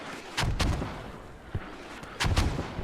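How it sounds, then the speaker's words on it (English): Mortar bombardment in a war video game, several heavy booming impacts landing in quick succession, loud and close with short rumbling tails between hits. "those mortars are getting really, really nice right now. Just bombarding that area continuously"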